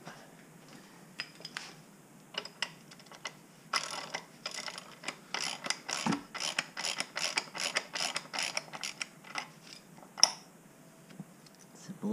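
A ratchet with a deep socket loosens a bolt on an LSX engine water pump in a Nissan S13 240SX, giving a long run of close, quick clicking strokes in bursts. A single louder pop comes near the end.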